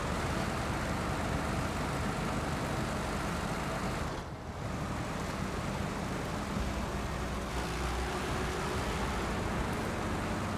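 A loud truck engine drones steadily in the SnowRunner driving game, a thick, close rumble that briefly dips for a moment midway before carrying on at the same level.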